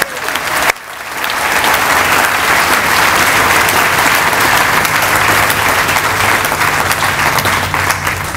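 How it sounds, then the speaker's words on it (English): Sustained, dense applause from the audience at a groundbreaking ceremony for a new children's hospital, rising after a brief pause and continuing loud and steady throughout. "Let's give them all now a round of applause."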